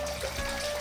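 Filtered water runs steadily back into a crayfish tank through lava rock and filter wool, a soft continuous trickle and splash at moderate level, with no talking.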